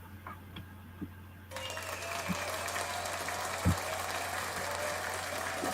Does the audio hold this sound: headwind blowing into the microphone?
no